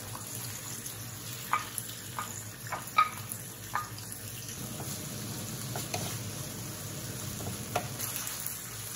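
Marinated beef and garlic sautéing in a pan for beef japchae noodles: a soft, steady sizzle broken by several sharp utensil taps and scrapes, close by with no talk.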